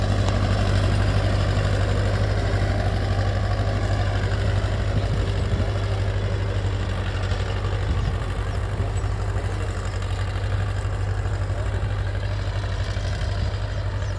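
A 1972 International 276 diesel tractor, a 37 HP English-built machine, idles with a steady low throbbing rumble, loud and close, running alone without talk.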